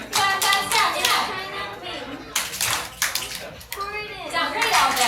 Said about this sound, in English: Clap, clap, snap, snap.